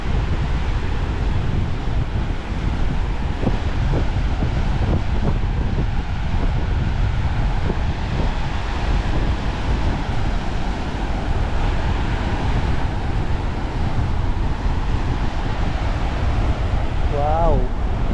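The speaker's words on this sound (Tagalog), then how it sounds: "Grabe, lakas ng alon." Strong wind buffets the microphone over heavy ocean waves surging and crashing along a storm-hit shore, a loud continuous roar throughout, with people talking underneath.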